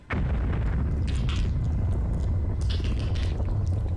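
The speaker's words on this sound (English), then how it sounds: "It's an explosion, big bad buddy." A loud, sudden boom in the video game Max Payne, an explosion that hits at once and rolls into a sustained low rumble and crackling debris for several seconds.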